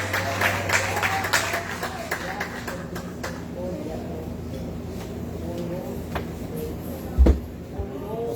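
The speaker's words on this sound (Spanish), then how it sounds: "El aplauso para el Señor." Church congregation applauding during a worship service, a soft, continuous patter of many hands heard from some distance with murmuring voices underneath and one louder knock near the end.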